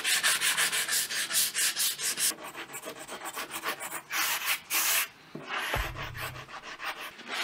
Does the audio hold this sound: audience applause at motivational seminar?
no